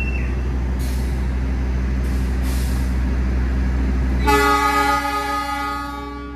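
KA Batavia economy-class passenger train departing Gambir station, with a steady low rumble, brief hissing air-brake releases, then a sustained horn-like tone at the end fading away.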